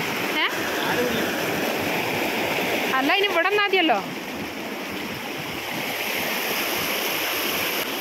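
Stream water flows steadily around a pipe in a green Wayanad village, a continuous broadband rush lasting throughout with a brief voice speaking over it near the middle.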